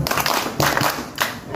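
A group claps together in a rhythmic clap chant at a bike-to-work discussion gathering, sharp bursts of hand claps landing in a quick repeating pattern, fairly loud and close.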